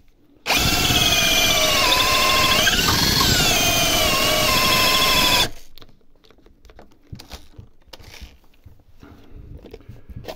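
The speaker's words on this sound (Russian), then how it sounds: "Да, шурупер вздыхает в самый неподходящий момент" A cordless screwdriver drill bores into solid sea buckthorn wood, a loud close whine lasting about five seconds with a dip in pitch midway, then stopping abruptly into quiet handling noises.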